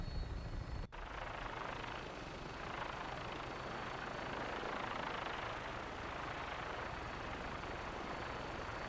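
Vertibird helicopter in Fallout 4 taking off, a loud sustained rotor and engine roar that starts abruptly after a brief cut and holds steady throughout.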